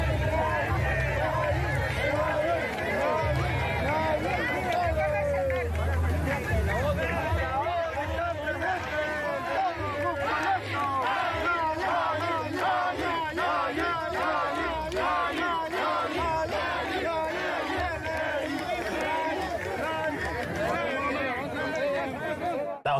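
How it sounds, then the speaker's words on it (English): A large crowd cheers and shouts for President Nayib Bukele, a dense and continuous roar of voices, whoops and chatter that holds for over twenty seconds. "he went out there on his own, just like ran out there, and the people were cheering"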